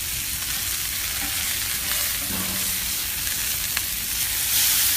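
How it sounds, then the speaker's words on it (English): Bacon and sausage fry on a breakfast grill with a constant close hiss and crackle, steady throughout, with no voices. "Let's see how our bacon's doing. Ooh, it's smoking."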